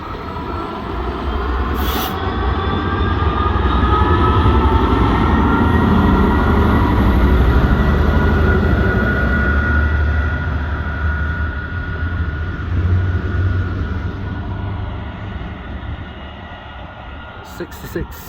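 Class 66 diesel freight locomotives 66707 and 66778 pull away on a working from Felixstowe, a loud, sustained engine roar and rumble of wagons that builds, holds and slowly fades over nearly twenty seconds.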